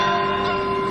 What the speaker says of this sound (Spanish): toca las campanas